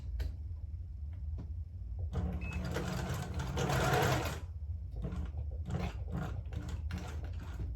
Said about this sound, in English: now I can actually stitch it